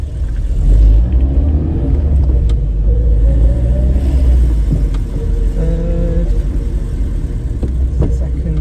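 A Mk1 Vauxhall Astra saloon drives down a lane with a loud, steady low engine and road rumble heard from inside the car, the pitch shifting slightly over time.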